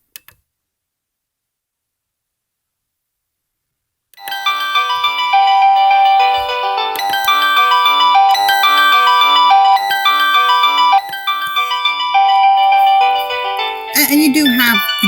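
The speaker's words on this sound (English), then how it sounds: "it blinks, there you go, to let you know that somebody is ringing the bell" An AVANTEK wireless expandable door chime plays a loud, sustained electronic ringtone melody of repeated tones after a few seconds of silence, ending with a brief rustle.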